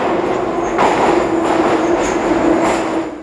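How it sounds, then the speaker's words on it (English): Moscow Metro subway train rolling through an underground tunnel, a loud, steady rumble with a sustained tonal whine and repeated swells as the carriages pass, with no voices. "a place known to Muscovites as the Metro"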